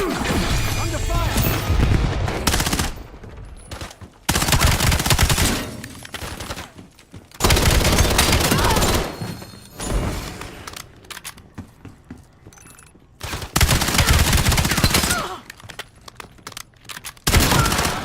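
Video game gunfire crackles in loud bursts that stop and start, several dense volleys broken by quieter gaps over about eighteen seconds, with occasional speech in between.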